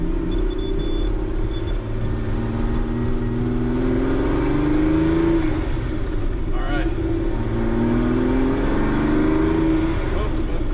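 A car engine rumbles and climbs in pitch as it accelerates, with gear changes and a steady road drone from inside the cabin.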